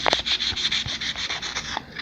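A sewing machine hook tip is sanded with wet sandpaper, producing rapid, steady back-and-forth rubbing strokes that are close and fairly loud, with no voices.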